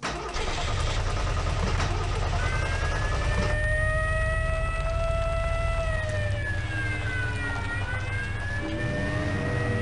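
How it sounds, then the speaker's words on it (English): A car engine cranks and starts in the 1999 Half-Life horror mod They Hunger, a loud continuous mechanical rumble with a rising, wavering siren-like tone layered over it. "There's also this car here"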